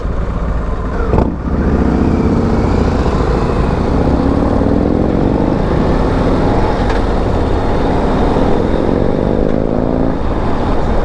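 A 2024 Harley-Davidson Street Glide being ridden, its V-twin engine rumbling loud and close with rising revs through several gear changes, wind rushing steadily over it the whole time.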